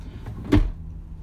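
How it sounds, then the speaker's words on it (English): A pantry door in a 2022 Forest River Salem Hemisphere 369BL bunkhouse fifth-wheel RV clicks shut on its magnetic catch, giving one short, near thud-click over quiet room tone. "these are held closed, you hear that right there, that click, by magnets"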